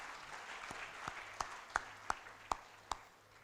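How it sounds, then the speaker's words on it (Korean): At a conference, a few distinct hand claps ring out at roughly even intervals over a quiet, hushed room. Faint and sparse, they read as scattered applause for leaders rather than a full ovation. "이분들께도 큰 박수 부탁드립니다."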